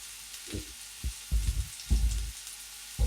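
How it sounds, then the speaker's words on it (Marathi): Sliced onion sautéing in a pan over medium heat, a soft steady sizzle broken by several low scraping stirs, close and fairly quiet with no voices. "कांदा छान आपल्याला गुलाबी रंग येईपर्यंत परतून घ्यायचा मध्यम गॅसवर आपल्याला कांदा भाजून घ्यायचा आहे"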